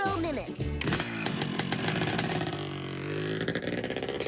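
Moto mimic device imitating a motorcycle gang's engines, a loud rasping buzz of revving engines that starts after a brief pause and continues steadily, with a voice speaking at the start.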